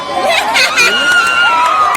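Loud crowd noise at a village sports match in Chhattisgarh, with excited voices, shouts and chatter from many people close by, filling a short, lively burst.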